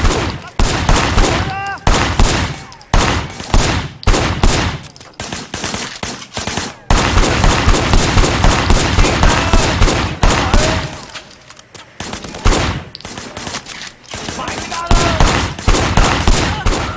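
Rapid automatic gunfire bursts and repeated shots from a Sleeping Dogs shootout, loud and dense across the whole stretch with brief pauses between volleys, including shots fired from a car's passenger window.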